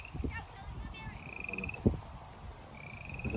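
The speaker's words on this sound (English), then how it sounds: "Could be different frogs, obviously." Frogs croak along the North Platte River in a soft, uneven chorus of low pulses, mixed with distant higher calls and outdoor background noise.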